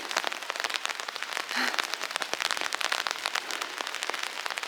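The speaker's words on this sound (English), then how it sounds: "And there's a bit of rain downstairs." Rain pattering steadily on surfaces at Suwon Hwaseong Fortress, with dense crackling drops and a brief low thud partway through, heard close and continuous with no talking.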